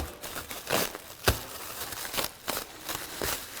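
Plastic packaging being unwrapped and crinkled from a Jeep Wrangler TJ rear tire carrier, with repeated rustling, crackling bursts and one sharp snap, close and moderately loud with no talking.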